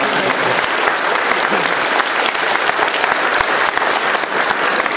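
Loud, dense applause from a student audience at a town hall meeting in Moldova welcoming visiting US senators, sustained clapping for several seconds with no talk over it.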